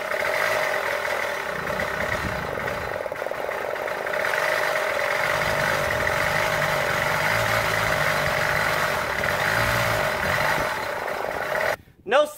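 A retro moped engine, its clogged exhaust just cleared, runs steadily at idle for several seconds, a constant buzzing drone, then cuts off abruptly near the end.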